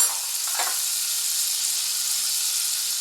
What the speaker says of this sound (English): I'll add a teaspoon of butter to the omelet pan